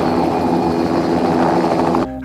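A helicopter filming wildlife gives a loud, steady rotor and engine drone that holds constant and then cuts off abruptly near the end, with no voices.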